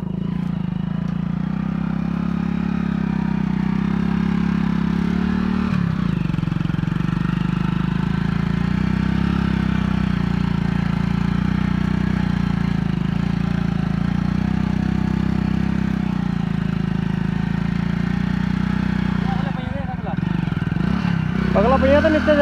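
A Hero Splendor motorcycle engine runs steadily at a low, throbbing idle in a wet, muddy farm field, close and continuous throughout, with a brief rev near the end.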